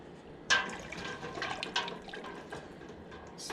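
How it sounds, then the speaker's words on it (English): Liquid sloshes and swirls as apple pie moonshine made with Everclear 190 is stirred, a brief splash at the start followed by steady close swishing with a second stir surge midway. "Stir it up real good in there."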